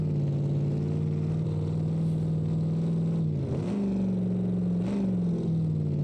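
A 21-litre engine in a Corvette in the BeamNG driving game, bogging down in a high gear: a loud, continuous low drone that barely changes pitch, with two brief dips and wobbles partway through.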